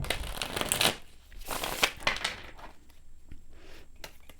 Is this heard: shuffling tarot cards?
yes